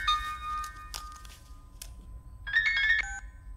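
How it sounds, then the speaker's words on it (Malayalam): A telephone rings in a Malayalam movie scene: a few short electronic ringtone bursts, fairly clear and close, over a quiet background with faint clatter. "ഫോൺ അടിക്കുന്നു"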